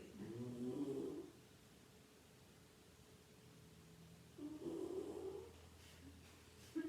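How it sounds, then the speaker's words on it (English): A beagle snoring in a quiet room, two slow, faint snorting breaths several seconds apart, soft and close, with low background hiss between them. "The beagle snores so loud."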